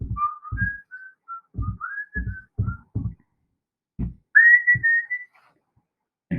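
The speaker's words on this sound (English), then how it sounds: "and then went on whistling again" A person whistles softly in short melodic phrases, with gentle thumping sounds between the notes and brief pauses between phrases.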